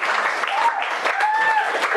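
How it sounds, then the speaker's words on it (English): A crowd at a stand-up comedy show claps and cheers continuously, a dense wash of applause with some voices mixed in. "So another round of applause."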